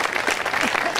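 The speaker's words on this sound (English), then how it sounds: "Give yourselves a round of applause." A crowd of veterans at a march on Washington claps steadily, dense applause filling the short moment with a faint voice or cheer rising through it.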